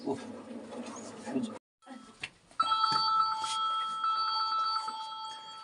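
After some muffled talk and a brief silence, a phone rings with a repeating electronic tone that carries on steadily to the end.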